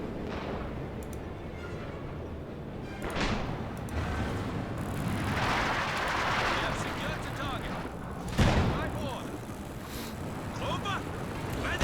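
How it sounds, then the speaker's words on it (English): A captured Volcanowurfer rocket artillery barrage strikes a Panzer IV in Company of Heroes 2, with several sharp impacts and a rushing roar over steady battlefield noise, one blast standing out near the end. "captured Volcanowurfer hitting the Panzer IV"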